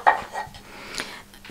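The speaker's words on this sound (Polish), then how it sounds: "Jest drewniany nóż taki, wiecie, dla dzieci. O, właśnie, uwielbia kroić. Jest tutaj też deska do krojenia." A child saws toy vegetables with a wooden knife on a cutting board, giving a few light, close wooden knocks and clatters scattered over a second and a half.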